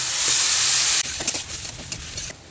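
Taro leaves are poured into a hot pan with fried prawns, turmeric and salt, first giving a loud, close rush of hissing steam that cuts off abruptly into quieter crackling and popping.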